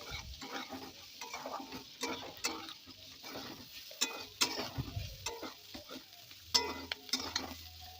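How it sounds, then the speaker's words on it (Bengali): Green chillies and ginger paste are stirred and fried in a pan, a soft sizzle under repeated scraping and clinking strokes of a spatula, close and fairly quiet, with no talk. "এবার এর মধ্যে দিয়ে দেবো কটা চেরা কাঁচা লঙ্কা আর আদা বাটা, দিয়ে ভালোভাবে নেড়েচেড়ে মিশিয়ে আরেকটু হালকা করে ভেজে নেব সব কিছু।"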